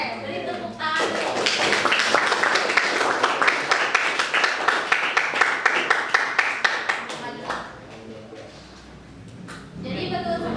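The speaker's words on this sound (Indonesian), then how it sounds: "Oke, beri tepuk tangan." Students clap in a classroom during microteaching practice, a loud burst of group clapping that settles into a rhythmic, unison beat before fading out, with some voices heard at the end.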